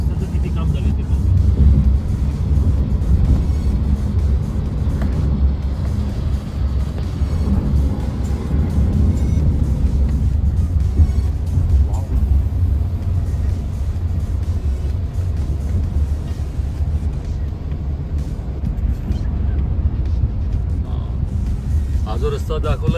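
A small car climbing the Varandha Ghat mountain road from Bharna Naka, Khed, toward Pune, its engine and road rumble a steady, loud, low drone throughout.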